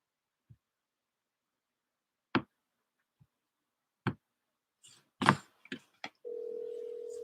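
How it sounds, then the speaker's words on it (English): A steady telephone dial tone comes on after a few scattered clicks and handset knocks while calling someone, continuing alone and fairly clear to the end. "So let me call her again right now."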